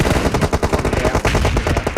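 Dense, rapid automatic gunfire from a PUBG Mobile match on a Redmi Note 9 Pro Max, with several weapons firing from different sides. Shots come in close, loud overlapping bursts that fill the whole moment, with no talk.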